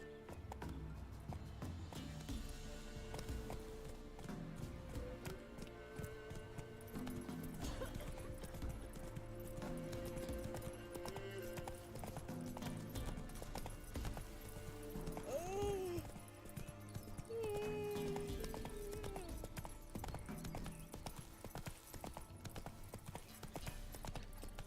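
Hooves clop rhythmically and steadily as the horse Roach trots and gallops through The Witcher 3 game world, under game music and ambience, with a brief whinny partway through.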